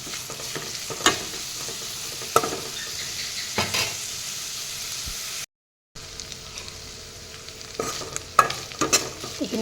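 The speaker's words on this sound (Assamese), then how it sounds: "এইখিনি মই নিজৰে ভাজিম" Jute leaves frying with dried fish in a pan, sizzling steadily with repeated sharp stirring scrapes and clinks of a utensil against the pan, broken by a brief silent gap midway.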